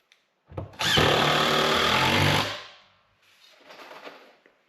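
A power drill drives 2-inch and 4-inch screws into wall studs for plywood window framing, giving one loud, sustained whirring burst of about two seconds, followed by a quieter, rougher stretch of tool noise.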